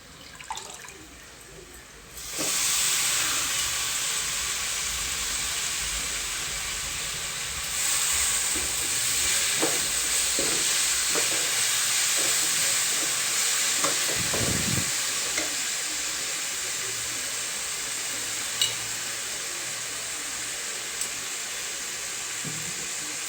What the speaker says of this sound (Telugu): ఇప్పుడు మెంతి కూర వేస్తానండి అందులో